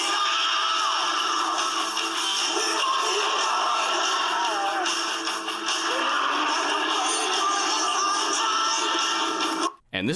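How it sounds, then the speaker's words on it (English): The squid sound effect from the film Transformers: The Movie, a dense, continuous warbling and squealing electronic texture, loud and sustained for about ten seconds before cutting off abruptly. "this is the sound of the squid from Transformers the movie"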